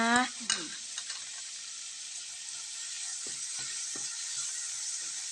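Squid is stir-fried with fish sauce and seasoning powder in a pan for basil stir-fry: a couple of sharp clanks open over a constant bright sizzle, followed by light scattered scrapes as the mixture is tossed.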